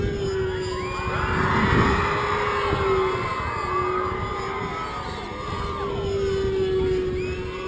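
Elementary school children in a crowd cheering and shouting loudly during an aerobatic display, a dense swelling roar of young voices over a steady engine drone, with no clear speech.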